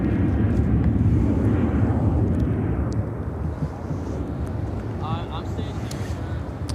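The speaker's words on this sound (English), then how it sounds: "This is American Airlines 2727 taking off to Omaha on the 737-800." An American Airlines Boeing 737-800 takes off from Chicago O'Hare, a heavy low rumbling engine roar with wind buffeting that slowly eases, while a voice talks faintly nearby.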